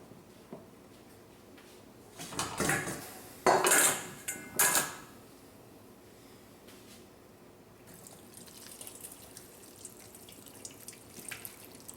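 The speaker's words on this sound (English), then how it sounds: "we're going to strain this liquid off it, then we're going to thicken that up, and that's going to be our gravy" Cooking liquid strained off a pot-roasted wild pork leg, with a couple of louder bursts of pouring and splashing, light pot and utensil clinks, then quieter trickling and dripping in a kitchen.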